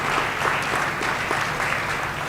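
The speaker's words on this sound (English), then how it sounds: "Let's take a moment and give everyone a round of applause for a great start to this season so far." Steady applause from an audience at a high school signing day event, dense clapping sustained evenly throughout without pause.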